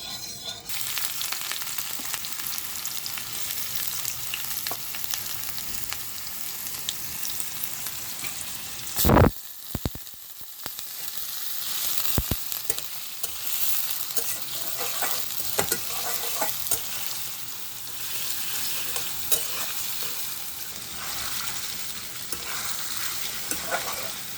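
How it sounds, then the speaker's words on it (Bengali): Hot oil sizzles steadily in a pan for egg curry, a continuous bright hiss that fills the whole stretch, broken midway by a sharp clatter and a few scraping knocks of a utensil against the pan. "তেল গরম দিচ্ছি, এরপরে পেঁয়াজ দিব এবং ডিম দিব"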